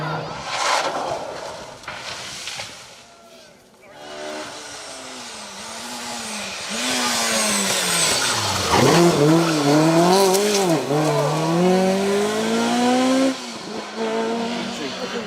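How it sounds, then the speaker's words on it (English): A rally car at a stages rally brakes hard and locks its wheels, tyres squealing and skidding through a wavering spin as the engine revs rise and fall, loud and sustained over several seconds. "lock it up and try to spin it round"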